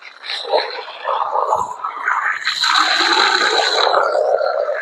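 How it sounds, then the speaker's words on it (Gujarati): Water gushes from the outlet pipe of a freshly installed motor pump in a loud, close, continuous rushing stream that swells after a brief surge, with no talking. "આવી ગયું પાણી."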